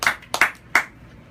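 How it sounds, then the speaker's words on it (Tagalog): A few sharp, separate hand claps from a church congregation during a sermon, close and distinct, followed by near silence, with no talking. "Palakpak sa ating Panginoon, mga kapatid."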